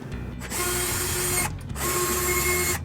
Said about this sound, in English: The next step is to remove the screws that are in your electrical box here.